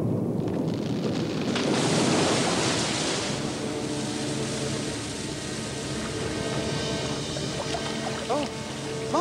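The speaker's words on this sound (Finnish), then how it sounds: "Oh, maanalainen joki!" An underground river in a cartoon bear story, a steady broad wash of flowing water rushing continuously throughout, with faint tonal music or voices layered over it near the end.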